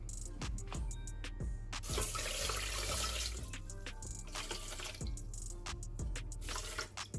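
Water poured over 120 grams of rice in a rice cooker, a steady running splash with rhythmic clinks and knocks over it, near and fairly loud, with no talk.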